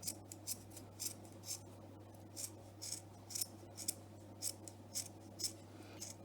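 Close, quiet scissor snips trim a yarn pom-pom, repeating in an uneven rhythm of roughly a dozen crisp cuts over a low steady hum.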